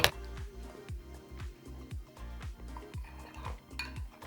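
A spoon stirs pesto into herb pizza sauce in a bowl, clinking rhythmically against the sides in a steady series of close strokes.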